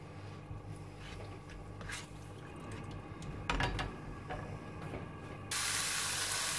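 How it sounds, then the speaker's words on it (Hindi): Yogurt-marinated chicken tikka frying in a pan as the liquid cooks off, a steady close sizzle with faint scraping stirs, swelling into a louder, brighter hiss near the end. "अब इसको अच्छी तरह से भून लेंगे चिकन को ना हम, ताकि ये बिल्कुल ड्राई हो जाए"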